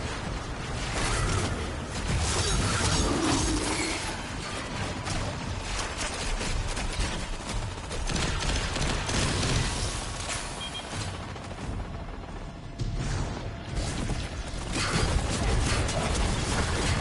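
Dense, ongoing gunfire and mechanical clatter from combat in the video game Destiny 2, loud and busy with no clear pauses, distant-sounding shots blending into a steady noisy wash.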